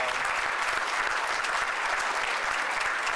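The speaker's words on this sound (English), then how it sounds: "I want to give you guys a round of applause." A loud, dense round of applause for the organizers at a healthcare conference plenary, a close and continuous wall of clapping from a large audience with no pauses.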